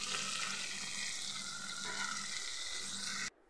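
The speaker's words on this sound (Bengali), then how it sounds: "এবার মশলাটা একটু নেড়ে নেব" Spice paste of turmeric, cumin paste and green chili paste sizzles in a pan while being stirred for potato-soybean kosha, a steady loud hiss that cuts off abruptly near the end.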